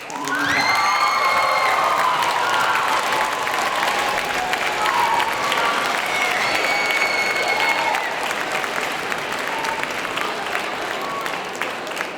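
Warm audience applause for a student at a school's international week opening ceremony, steady dense clapping with some cheers and whoops, loud and sustained throughout.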